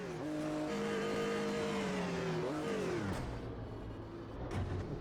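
Race car engine in the Automobilista 2 racing game, with a Ford GT40 from 1966 Le Mans in view, revving hard at high pitch with falling and rising harmonics and brief tire squeal, loud and steady throughout with no talk.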